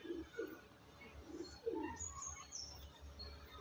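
A pigeon coos faintly in a few low soft phrases at a village home loft, with brief chirps and light background noise.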